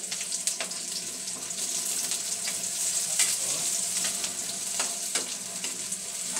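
Onion drops into a pan over browned garlic and fries with a bright, continuous sizzle, broken by sharp crackles and stirring scrapes, close by and fairly loud.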